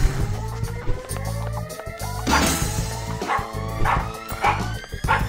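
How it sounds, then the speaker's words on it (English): Guard dogs in the stealth game The Marvellous Miss Take, barking in repeated sharp yips over a continuous whine and background game music, with several distinct bursts spread across the moment. "Okay, so there is dogs now."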